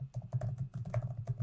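Quick, steady typing on a computer keyboard, a close run of light clicking keystrokes with no talk.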